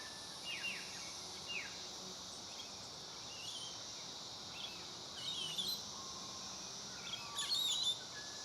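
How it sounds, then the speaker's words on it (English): Brown honeyeaters call from a tree canopy, with faint, scattered high chirps and short whistles over a steady background of insect and cricket buzzing. "There seems to be a lot of action in the canopy over here."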